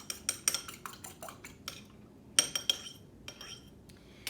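A utensil clinks and taps against a bowl while mixing egg mixture for maple nut rolls, with quick irregular metallic clicks in bursts, close and fairly quiet.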